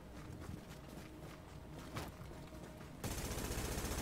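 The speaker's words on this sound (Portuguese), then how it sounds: "Olha a rajada passando, velho!" Automatic rifle fire from a burst in The Division video game, a dense rapid clatter with broadband crackle through the first few seconds, then a louder sustained rattling burst toward the end.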